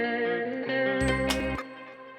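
An electronic music loop with light compression, EQ, reverb and delay plays alone as sustained harmonic tones. A low, bright burst enters midway and fades, leaving a wet, echoing tail.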